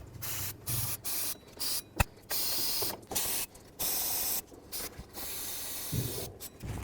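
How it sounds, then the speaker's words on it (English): Repeated short bursts of brake parts cleaner aerosol spray hissing close by on engine pulleys of a Toyota Sequoia, about a dozen blasts of varying length separated by brief pauses, with a sharp click partway through. "I'm just going to spray it all with brake parts cleaner"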